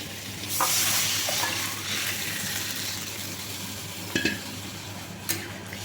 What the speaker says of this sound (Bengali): এবার আমি এই ডাল সেদ্ধ করে রেখেছি এটা আমি সাঁতলে দেবো